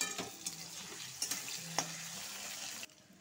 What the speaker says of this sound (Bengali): আলুগুলো হালকা ভেজে নিয়েছিলাম, এটা একটু ভেজে দিব।